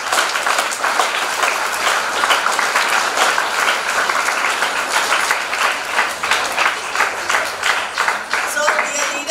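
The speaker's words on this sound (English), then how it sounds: "So give them a good round of applause for them." An audience at a school investiture ceremony applauding its newly sworn-in student leaders, dense sustained clapping at full volume for the whole stretch, with no break or tapering.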